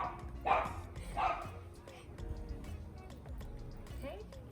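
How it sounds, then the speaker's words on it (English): A dog barks and yips excitedly at a squirrel on a fence, a couple of louder bursts up close, then quieter whimpering over low background rumble, with a person talking. "That's why the dog is going crazy."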